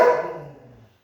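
A dog indoors in a home room gives a single bark that rings out and fades quickly.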